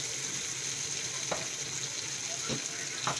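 Green chilies and tomatoes fry with sautéed onions in a pan for a chickpea curry, giving a steady soft sizzle with a few faint stirring scrapes around the middle and end.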